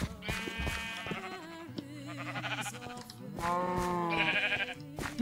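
Sheep in the Minecraft video game bleat several times in quick succession, the wavering calls overlapping closely in the foreground.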